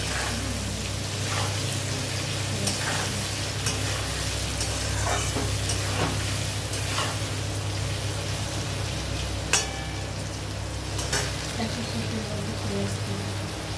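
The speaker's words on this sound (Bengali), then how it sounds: "নুন হলুদ দিয়ে এবার ভালো করে আলুটাকে ভেজে নেব সুন্দর করে" Steady crackling sizzle of potatoes frying with salt and turmeric in a pan, with occasional sharper clicks of stirring, continuous and close throughout.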